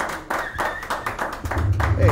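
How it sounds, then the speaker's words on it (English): A small studio audience claps for a guest on a local talk show, a short ragged burst of hand claps with some low rumble and background noise mixed in. "Give a round of applause,"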